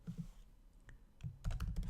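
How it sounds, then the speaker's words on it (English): Typing on a Mac computer keyboard while entering text, quick clusters of light key clicks with a short pause, then a faster burst of keystrokes, close and quiet. "Inside the text field, let's write our welcome message."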